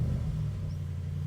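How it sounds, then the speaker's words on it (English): A Brabus G800 G-Class with 800 horsepower idles with its exhaust open, a low, steady, droning rumble heard up close through open windows, even and unbroken, with no voices. "let me also start the exhaust of this 3 to 1"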